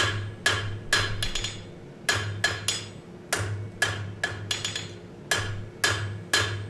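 Hot metal is forged with a hand hammer at a blacksmith's anvil, sharp ringing blows falling in quick irregular clusters with short pauses, each strike clear and close over a steady low hum.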